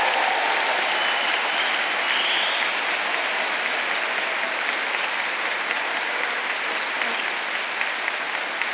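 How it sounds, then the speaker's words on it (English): A large audience at a Birmingham university degree ceremony applauds graduates, a broad sustained wash of many hands clapping, steady and continuous without a break. "So, a round of applause for all of you who've come here today to get your degrees."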